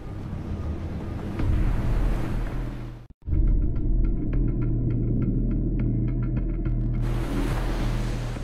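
Heavy ocean surf pounding continuously in the South Pacific, a loud, dense roar of breaking waves and rushing water with wind buffeting the microphone, briefly cutting out before the steady wash resumes.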